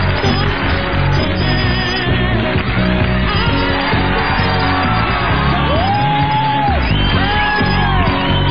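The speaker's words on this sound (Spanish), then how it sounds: "Un fuerte aplauso" Studio audience of a late-night talk show cheering, whooping and applauding loudly as a guest is welcomed, a dense continuous roar with shouts and a band or music playing underneath.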